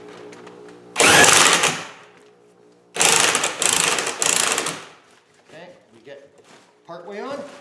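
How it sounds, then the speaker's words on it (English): Spring compressor being tightened on the suspension of a Triumph TR7, with two loud bursts of ratcheting, grinding mechanical noise separated by a pause, then softer handling sounds. "we're going to start tightening the spring compressor"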